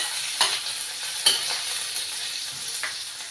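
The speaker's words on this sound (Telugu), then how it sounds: "వెల్లుల్లి రెబ్బలు 3, ఒక స్పూన్ జీలకర్ర కొంచెం వేయించుకోవాలి." Garlic cloves and cumin seeds frying in a pan for a tomato-coriander chutney, a steady hiss with a few louder crackles and stirring scrapes, close and without talk.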